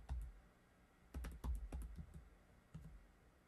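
Fingers tap at the keyboard of a Google Pixelbook Chromebook in a quick cluster of soft, close clicks, with brief pauses between bursts and no speech.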